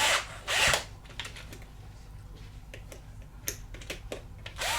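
A power tool tightens the wheel nuts on a Ryft RC car build fitted with Injora wheels: one short, loud whirring burst near the start, followed by faint scattered clicks and handling noises.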